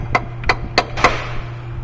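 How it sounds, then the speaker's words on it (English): Hammer striking the corner tabs of the alternator bracket on a 2007 GMC Yukon with a 5.3-litre engine: four sharp metallic taps, evenly spaced about a third of a second apart, close and clear over a low steady hum. "just take a hammer and hit them on the corner"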